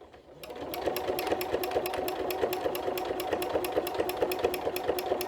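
A sewing machine runs steadily for several seconds while free-motion quilting a meander pattern with loops, its rapid needle clatter even and continuous, close up and with no one speaking.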